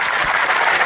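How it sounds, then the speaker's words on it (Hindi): An audience at a training seminar in Kolkata claps, a short, dense burst of applause from a crowd, close and fairly loud, filling the whole moment without voices. "एक जोड़ा तालियां हो जाए।"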